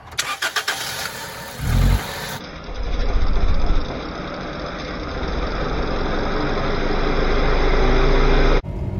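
A 2001 Toyota Celica engine with a misfire cranks with rough, uneven stumbles, then catches and settles into a loud, steady idle that runs on before cutting off abruptly.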